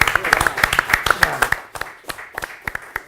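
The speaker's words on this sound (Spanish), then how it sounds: "por favor, un aplauso a todos los camarógrafos." Studio audience applause on a television economics program, a quick run of clustered hand claps from a small group nearby, thinning into a few scattered claps toward the end.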